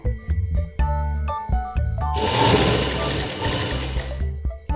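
Sewing machine stitching around a frock neckline, its motor whirring in short bursts with stops and starts, then one long continuous run, close and fairly loud.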